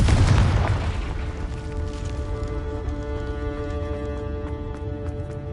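A Confringo blasting spell goes off in the video game Hogwarts Legacy: one loud, booming explosion at the start, then a sustained rumbling ring that slowly fades, with no voices.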